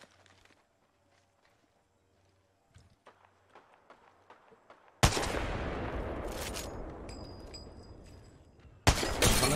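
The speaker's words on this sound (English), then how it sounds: "Coming down here and taking shots at that team so they don't decide to come over here" Gunfire in Apex Legends: soft scattered taps and footsteps give way to a sudden loud burst of shots that decays into a long noisy tail, then another sharp blast at the end, with no talk.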